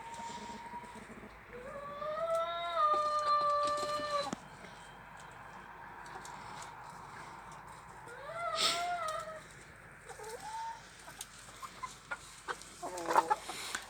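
Hens cluck and squawk on a sunny-morning chicken farm with no roosters, their calls coming in scattered bursts of rising, squeaky clucks against a quiet outdoor background.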